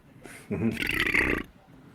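A single drawn-out, gravelly burp, loud and close, rising into a rough roaring belch for about a second before cutting off.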